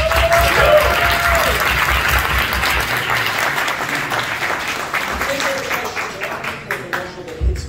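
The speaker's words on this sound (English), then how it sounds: "Round of applause for Shomri." Loud audience applause fills a hall during a speaking event in New York, dense clapping that slowly thins and fades, with a voice briefly audible over it.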